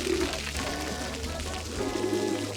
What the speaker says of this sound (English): Yeah, loads of pigeons.